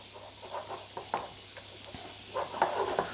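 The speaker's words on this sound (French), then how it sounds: "je vais mélanger le sucre glace et le blanc d'œuf" Icing sugar and egg white are stirred together into royal icing in a bowl, giving soft, irregular scraping and sticky patter that stays faint and close.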